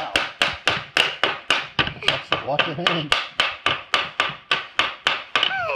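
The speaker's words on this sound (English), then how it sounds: "That's some good hammering." A child pounds with a Vilac wooden toy hammer, striking a wooden tool set in a quick, steady series of sharp, loud taps roughly three per second, while an adult speaks briefly partway through.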